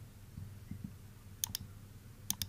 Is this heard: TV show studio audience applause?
no